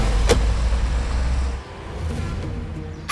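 A car heard at close range, with a loud low rumble that drops partway through, a brief sharp knock near the start and softer mechanical sounds afterward, no voices.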